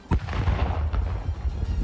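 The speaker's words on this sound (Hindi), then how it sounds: "इस दौरान वहां तेज धमाका हुआ।" A sharp landmine blast booms at the start, followed by a heavy, rumbling roar that lingers and rolls on, distant and low-pitched.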